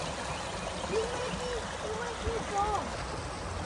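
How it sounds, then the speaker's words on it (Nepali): Water flows steadily down a stream in a park, a soft continuous trickling wash heard from nearby, with faint voices mixed in underneath. "मजाले पानी बग्छ नि।"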